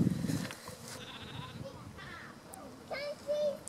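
Sheep bleat in a muddy, partly flooded field on the North Yorkshire Moors, several short calls near and farther off over a faint outdoor background, with voices murmuring.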